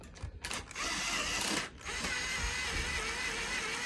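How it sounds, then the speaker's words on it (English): A power drill tightens screws on an indoor hydroponic system, whirring in short bursts, then running steadily for a few seconds, close and fairly loud, with no talking. "grab our drill. We're gonna tighten these up."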